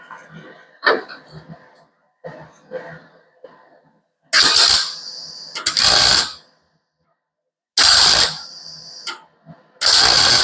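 MIG welding on a panel of a 1935 Ford coupe comes as loud, close bursts of harsh buzzing crackle a second or two long, separated by silence and a few quieter rattles and knocks.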